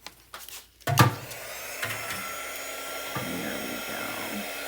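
A handheld heat tool blows a steady, loud whoosh to dry a scrapbook page, starting after a short knock and a few words and then holding evenly.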